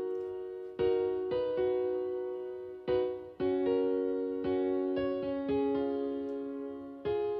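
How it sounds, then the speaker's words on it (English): Piano melody from the stock FL Keys plugin in FL Studio, struck notes and chords in a slow phrase with sustained decays, played alone and clean. "The piano is coming from FL Keys."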